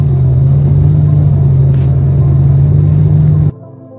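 A car travelling along Highway 183 in the Dallas-Fort Worth area of Texas, a loud, steady low engine drone and road rumble heard from inside the vehicle that cuts off abruptly near the end.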